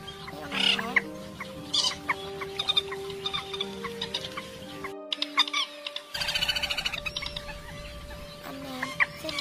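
Sea bird calls recorded for a late-season 2021 lure, repeated chirping and clucking notes in bursts over a steady tonal background, with a brief silent gap midway.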